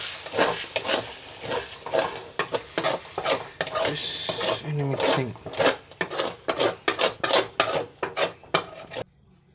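Egg bhurji stirred in a pan at home, a busy run of quick scraping and clinking strokes against the pan with a light sizzle underneath, loud and close, ending abruptly.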